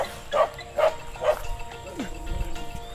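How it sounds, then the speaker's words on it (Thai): A dog on a rural farm barks at cattle, giving several sharp barks in a row at a moderate distance, followed by faint low thumps, with no talk in between. "นางโบกาเห่า เห่างัวนางโบ เป็นสมุนเนาะ"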